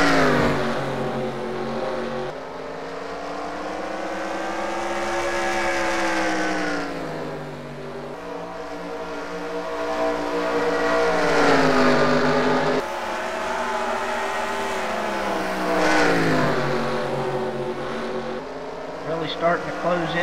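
Stock cars roar around the Bristol track, engines droning and swelling in long rising and falling sweeps as the pack laps, with a commentator talking over the steady racing noise.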